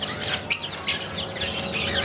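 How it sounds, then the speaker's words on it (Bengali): Budgerigars in an aviary room, a busy layer of high chirps and twitters with a couple of louder bursts close by. "এই ঘরের মধ্যে কত পাখি দেখো"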